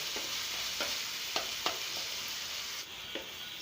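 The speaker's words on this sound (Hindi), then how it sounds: "इस तरह से चम्मच की मदद से आप टमाटरों को मैश कर लेंगे।" Soft tomatoes sizzle steadily as they fry in a pan for a tomato and green chili curry, with a spoon mashing them in occasional soft scraping pushes over the constant hiss.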